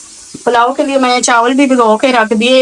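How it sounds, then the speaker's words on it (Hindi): A pressure cooker on the stove gives off a constant high hiss underneath someone talking loudly and close by. "इसलिए शोर थोड़ा कुकर का आ रहा है ना"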